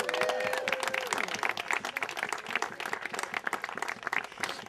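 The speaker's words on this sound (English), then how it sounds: "let's give her a round of applause for her birthday" A crowd applauds with dense, steady clapping that fills the whole stretch, a faint tone fading early on.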